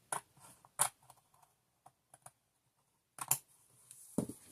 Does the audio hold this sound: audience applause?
no